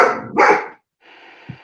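A young alert dog gives two sharp barks in close succession, loud and near, followed by a brief pause and a softer, whining sound.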